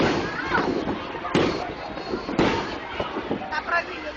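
Fireworks burst in the night sky over a park, with several deep booms and crackling pops spread out at uneven intervals. People talk and exclaim throughout.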